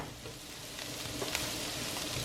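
Aromatics sautéing in a pot for Jamaican curry goat, a soft, steady sizzle with faint stirring, quiet and close, building slightly with no voices.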